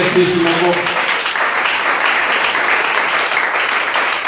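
Loud, continuous applause from a church congregation at a French-language service, a dense wash of clapping with a voice briefly audible at the start.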